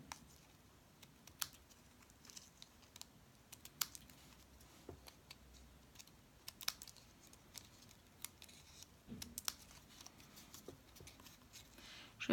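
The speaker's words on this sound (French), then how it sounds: "Alors maintenant, je vais découper tout ce qui dépasse." Scissors snip away excess fabric or material in a quiet, close series of sharp, irregular clicks and cuts, with soft handling rustle between them and no speech.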